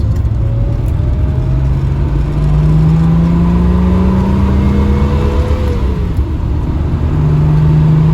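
A 1971 Triumph GT6 classic car's engine runs steadily and loudly up close, with a rising and falling drone as it revs, continuous throughout with no talking.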